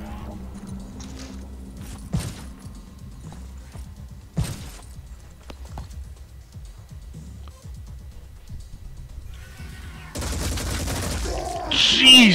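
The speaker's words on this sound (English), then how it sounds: "That freaking chain cannon that New Jericho has is awesome." Chain cannon gunfire in the video game Phoenix Point cracks out in sharp, scattered shots and thumps, then erupts into a louder, dense burst of rapid fire near the end.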